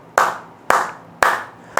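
A church congregation claps in praise during a worship service: four sharp, evenly spaced claps, loud and close, about half a second apart, with no talking over them.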